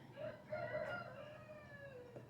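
A rooster crows once at a woodland homestead, a drawn-out cock-a-doodle-doo that rises and then trails off, fairly near and clear against quiet surroundings.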